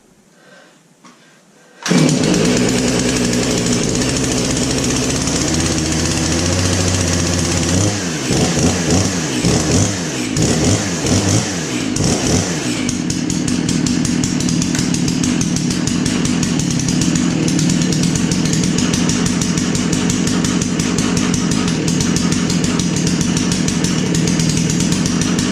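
A chainsaw is pulled to life after a short quiet moment, its engine revving unevenly at first before settling into a loud, steady idle that runs close by for the rest of the time.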